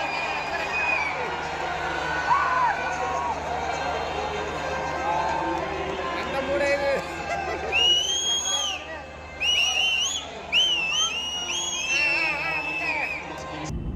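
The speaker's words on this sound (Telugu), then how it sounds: "చూసారు కదా అరుపులు కేకలు" A packed stadium crowd at an IPL cricket match in Vizag roars and cheers continuously, with shrill whistles and horn-like tones piercing the dense, loud din.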